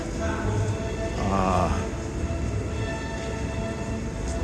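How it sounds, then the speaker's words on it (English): A subway shuttle train at Grand Central Terminal rumbles and squeals as it is brought in through the 1, 2, 3 line, a low steady rolling drone with a brief metallic screech, heard from a short distance. "that's how they bring the shuttle trains in"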